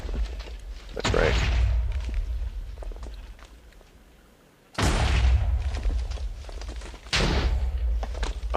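Explosions in the video game Minecraft, played with the Project Ozone 3 modpack, go off as three loud booming bursts separated by a few seconds, amid softer game clatter and thuds.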